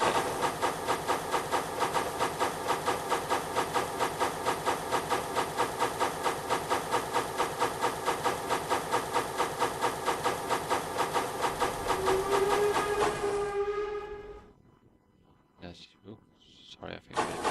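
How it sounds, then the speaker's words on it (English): A steam locomotive in the Rails of War game mod chugs steadily with rapid rhythmic hissing beats and a tonal whistle-like whine before it cuts off abruptly, followed by a few faint clicks. "I need to stop that other train"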